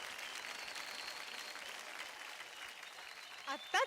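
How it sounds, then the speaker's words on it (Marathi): An audience applauds at a televised dance competition, and the steady clapping fills the room evenly before a voice cuts in at the very end. "जोरदार टाळ्या उंचावून देत ग्रँड मास्टर साठी."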